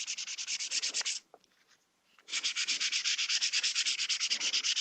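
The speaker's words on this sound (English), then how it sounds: "doing a little bit of sanding." Close, steady hand-sanding of a plastic melee prop's edge with 180 grit sandpaper: rapid back-and-forth rasping strokes, a brief pause about a second long, then another run of even strokes.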